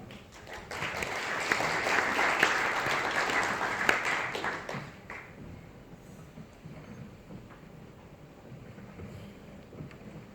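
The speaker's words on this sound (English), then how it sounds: "Please just have a round of applause also for our panelists" A panel audience applauds the panelists at a payments industry event, with dense, loud clapping for about five seconds before it fades to a quieter room murmur.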